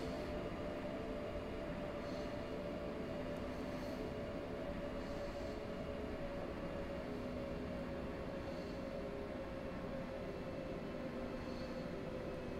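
A six-car train hauled by a Taurus locomotive rolls along in Railworks Train Simulator, giving a steady, continuous low rumble with faint, repeated rail clicks and no voices.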